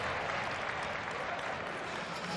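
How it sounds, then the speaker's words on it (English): Indoor athletics arena crowd at the World Athletics Indoor Championships in Belgrade, 2022, breaking into sustained applause and excited cheering, a dense steady roar of clapping that stays loud and even throughout. "Crowd just getting a little bit excited there."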